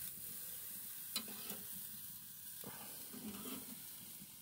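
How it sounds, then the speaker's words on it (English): Onions sear on a hot grill with a soft, steady sizzle and hiss, broken by a couple of scrapes and clanks from a utensil, fairly faint and close. "All right, let those get a good sear."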